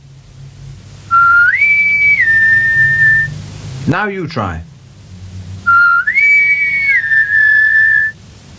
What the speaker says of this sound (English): If you want the wind, you must whistle for the wind. Like this.